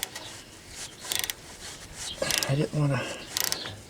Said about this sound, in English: I'm using a regular socket wrench on this.